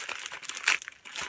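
Crinkling plastic packaging of an opened parcel, a brief close rustle and crackle with a few sharp crackles.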